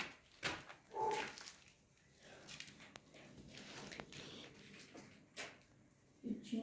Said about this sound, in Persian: سگا چرا دارن پاس میکنن؟